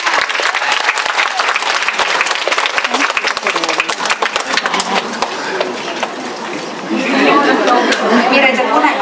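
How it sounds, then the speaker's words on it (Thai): A party crowd applauds for a guest named Gik, with dense, fast clapping close by and mixed with chatter, giving way to livelier crowd noise and voices near the end. "ขอเสียงปรบมือให้กิ๊กด้วยค่ะ"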